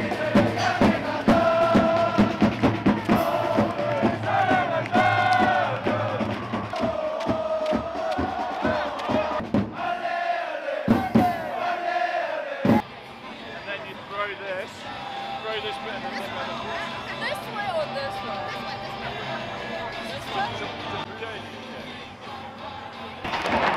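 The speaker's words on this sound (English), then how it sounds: "The crowd is singing with the same hope, praying for the victory of the teams they support." A large stadium crowd sings and cheers at an FC Seoul versus Gangwon FC football match. The chanting is loud and rhythmic, with voices rising together, then it thins into a broader roar.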